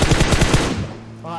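A rapid automatic burst of about six shots in the video game PUBG Mobile cuts off after under a second, and a voice follows.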